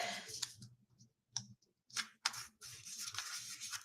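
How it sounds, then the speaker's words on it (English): Painter's tape is pulled and pressed onto a wall for stenciling, giving crisp ripping and clicking bursts in short separated strokes, close and quiet, without talk. "I'm gonna just tape up here."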